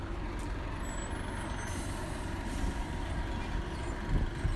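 A bus at a stop near the University of Georgia campus rumbles steadily with a short hiss like an air brake, set against distant traffic noise, and no one speaks.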